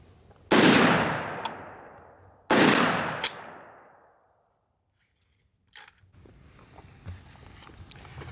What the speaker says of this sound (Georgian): სადაც 20 ტყვია ვისროლეთ